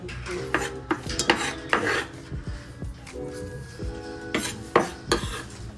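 A kitchen knife scrapes and taps against a cutting board or dish in irregular short strokes, close and fairly quiet, with no talking.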